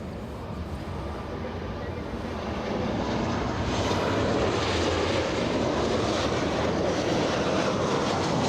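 An airliner arrives at Los Angeles International Airport from San Francisco as flight 565. Its engine roar swells from moderate to loud and holds steady, broad and rushing.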